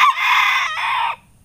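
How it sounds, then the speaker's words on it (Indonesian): A single bantam (ayam kate) rooster crows once, close and loud, a sustained cock-a-doodle-doo with a brief break near the middle before it cuts off. "saya di setiap paginya itu pasti dengar kokokannya ayam kate"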